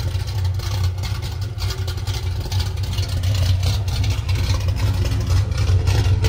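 A 1957 Chevrolet Bel Air with a 350 V8 and a new 2.5-inch stainless steel exhaust idles steadily nearby, giving a deep, throaty rumble that holds an even level throughout with no talking.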